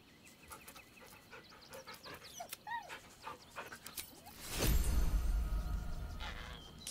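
Dog panting in the Baldur's Gate 3 video game, soft rapid breaths with small whimpers, followed by a louder broadband rush of game ambience in the second half.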